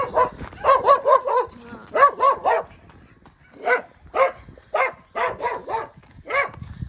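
A dog barks repeatedly nearby in quick bursts of three or four loud barks, separated by short pauses.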